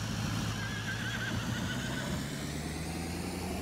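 A horse whinnies in the farming game Farming Simulator 22, a thin drawn-out neigh over a steady low engine drone that runs unbroken through the clip.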